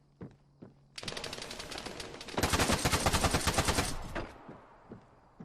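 Incoming gunfire in the video game Arma 3: a sustained, loud, rapid stream of shots lasting about three seconds, growing heavier midway before cutting off, with a few faint pops before and after.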